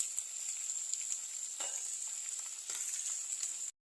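Eggplant pieces with turmeric sizzle steadily in a hot pan, a continuous close frying hiss with two brief louder bursts as pieces are stirred, then it cuts off abruptly.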